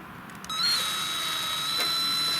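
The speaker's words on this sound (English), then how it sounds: "So I mounted the guitar string on the cordless" A cordless screw gun whirs steadily at high speed, spinning a guitar string fed into a rusted gas line inside a tank, a sustained whine with a slight wobble after a brief start-up.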